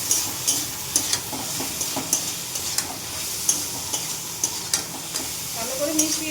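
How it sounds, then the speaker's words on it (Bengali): Onion, garlic and green chilli frying in a pan, with a loud steady sizzle and repeated scraping strokes of a spatula stirring throughout. "পেঁয়াজ রসুন, কাঁচা লঙ্কা এগুলি সবগুলি কষাতে থাকবে।"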